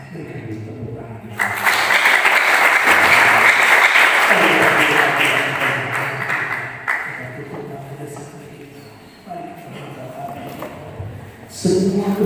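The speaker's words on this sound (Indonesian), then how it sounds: "Berikan tepuk tangan." A church congregation bursts into loud sustained applause during a Christmas-season sermon, swelling then slowly fading over several seconds, with a few scattered claps and a brief final burst near the end.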